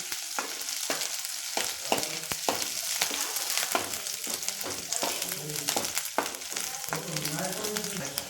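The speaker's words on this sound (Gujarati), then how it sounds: "જીરું એડ કરવાનું છે અને ત્યારબાદ જો આપણે તીખી મરચી અને આદું લઈ લીધું છે, પેસ્ટને એડ કરી દેવાનું છે" Chili and ginger paste sizzles and spatters in hot oil with cumin, a steady close frying hiss broken by repeated sharp stirring scrapes and clinks throughout.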